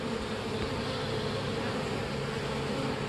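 Honeybees swarm around a beekeeper at an open hive, a dense, loud, continuous buzzing close by with no voices.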